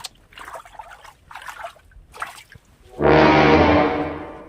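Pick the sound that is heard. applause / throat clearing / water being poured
water being poured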